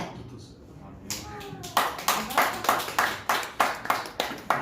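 Scattered applause from a church congregation during a Korean Sunday worship service, starting with a few hands and swelling into steady rhythmic group clapping in a fairly close, reverberant room.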